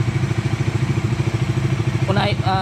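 A 2026 Bajaj Dominar 400 motorcycle engine runs with a steady, pulsing low throb close by, rising slightly in revs near the end, while a person speaks over it.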